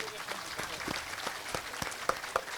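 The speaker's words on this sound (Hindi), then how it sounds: "उनके लिए एक बार ताली बजाइए।" An audience at a large outdoor yajna gathering applauds, scattered claps with a few sharper individual hits standing out, moderately distant and soft under a steady crowd background.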